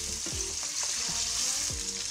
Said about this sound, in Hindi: उसी घी में मैं अब गोश्त फ्राई करने लगी हूँ।